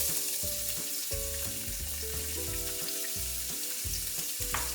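Onions for a rustic Italian beef stew fry in a pot with a soft, constant sizzle, set beneath steady background music.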